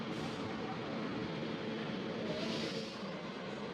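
Rajdhani Express picking up speed through a station, a steady broad rumble of wheels and traction noise at moderate distance, holding fairly constant with a slight swell near the end.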